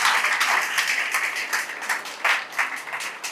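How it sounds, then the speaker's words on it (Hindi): A church congregation claps loudly in praise during a Hindi sermon, sustained crowd applause with uneven bursts, fairly close and filling the room, with no speech over it. "जोर से तालियां लगाइए परमेश्वर के लिए"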